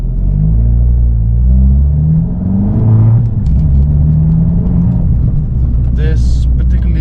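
An automatic Abarth 500C convertible drives along with a steady low engine rumble and road noise from inside the cabin, pitch shifting slightly through the drive, and some faint talk in the background.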